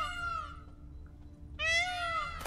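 Cat caterwauling in the video game Witcher 3 Blood and Wine: two drawn-out, wavering yowls separated by a short pause, loud and close over a low steady ambient hum, no talk.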